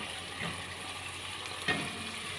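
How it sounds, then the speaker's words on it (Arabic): Garlic fries and sizzles quietly in a pan while being stirred, a soft steady crackle with a faint scrape or clink partway through, close and low in level. "هقلبهم كويس كده لحد ما يطلعوا ريحه جميله كده"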